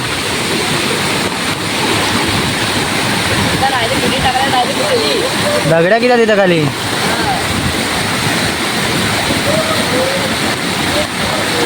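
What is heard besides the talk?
rushing water flowing strongly after heavy rain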